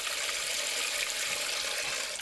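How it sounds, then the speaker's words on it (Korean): Hands splash and stir in a basin of water while washing dishes, a steady close wash of water that runs on without pause. "냉큼 설거지통에 손을 담그지만"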